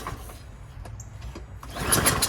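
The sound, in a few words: Troy-Bilt Briggs lawnmower engine starting with recoil pull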